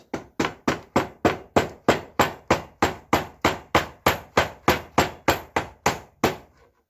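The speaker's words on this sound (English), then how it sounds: "I'm gonna just take my hammer, or mallet in this case, and" A mallet hammers a wrist pin out of a connecting rod on a 5 HP Briggs and Stratton engine in a steady, even rhythm, about twenty sharp, loud blows, each ringing briefly before the next.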